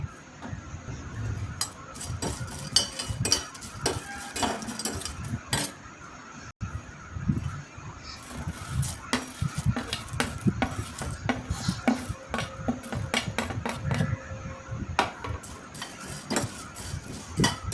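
Biryani masala spices dry-roasting in a pan, stirred with a utensil that scrapes and clinks against the metal in quick irregular strokes, close and continuous.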